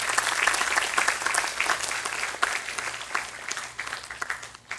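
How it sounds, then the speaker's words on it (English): Audience applause at a secondary schools football league prize distribution, dense sustained clapping from a crowd, steady and fairly loud throughout before tapering slightly at the end. "Let us give them a round of applause."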